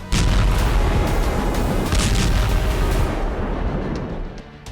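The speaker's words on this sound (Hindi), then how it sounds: "रूस ने पहली बार पश्चिमी यूक्रेन पर स्कंदर, किंजल और बैलिस्टिक मिसाइलों से इतने बड़े स्तर पर तबाही मचाई है।" Russian Iskander, Kinzhal and ballistic missile strikes explode across western Ukraine, a continuous heavy roaring boom with deep rumble that holds loud for several seconds before slowly fading.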